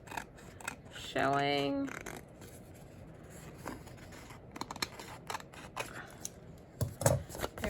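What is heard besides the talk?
trimming excess paper from craft pages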